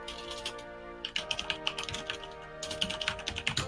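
Quick bursts of key clicks on a computer keyboard, close and crisp, over faint background game music, with a short pause before a second run of typing.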